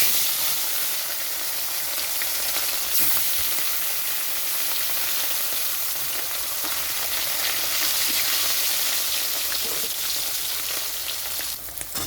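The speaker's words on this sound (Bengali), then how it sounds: "তো এখন আমি মাছগুলো ভাজার জন্য ছেড়ে দিচ্ছি।" Loud, steady sizzling of rohu fish frying in hot mustard oil, a continuous crackling hiss with occasional sharper pops, close up and without any talking.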